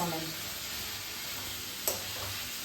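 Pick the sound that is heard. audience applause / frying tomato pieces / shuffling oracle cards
frying tomato pieces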